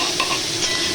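Onions fry in a pan for shahi paneer while a spoon scrapes and stirs them, giving a brisk sizzle with short scraping strokes, close and without voices.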